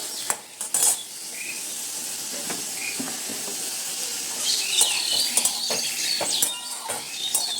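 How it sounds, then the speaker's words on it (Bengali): Prawns frying in a pan give off a steady, bright sizzling hiss throughout, with a few light clinks of a utensil against the pan near the start and later on. "চিংড়ি মাছটা খুব বেশি ভাজবো না, খুব বেশি ভাজলে কি হয় জানো তো, মাছটা না শক্ত হয়ে যায়।"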